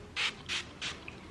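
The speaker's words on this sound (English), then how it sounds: "I'm just going to spray some" Mario Badescu facial spray misted from a pump bottle: three quick, evenly spaced hissing spritzes, close and crisp, with near silence between them.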